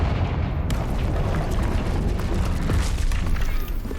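Confringo fire-blast spell explosion in Hogwarts Legacy, a loud, dense booming rumble that fills the whole clip with steady blasting noise and no clear pause.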